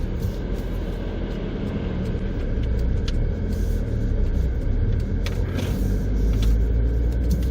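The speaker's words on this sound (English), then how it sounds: "We'll let this big garbage truck go by here." A big garbage truck rolls past on a German street corner, heard from inside an old Mercedes as a steady low engine rumble with road noise that swells slightly toward the end.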